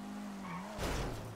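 A car in GTA Online hums along, then breaks into a brief loud skid with tire squeal as it slides into a drift.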